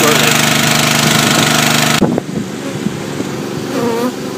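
Honeybees swarming around hives, drawn by corn syrup, make a dense, loud buzzing hum that cuts off abruptly halfway, leaving scattered bee buzzes and a faint engine-like drone behind.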